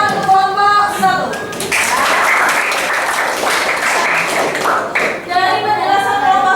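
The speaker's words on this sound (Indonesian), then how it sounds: "Beri tepuk tangan kelompok 1." A classroom of students gives group 1 a round of applause during an environmental conservation lesson. The clapping is dense and loud and lasts several seconds, with voices heard just before and after it.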